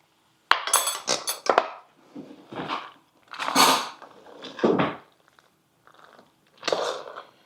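Mexican pasta salad of macaroni being stirred in a bowl, giving several separate wet, crunchy mixing bursts with pauses between them and no talking.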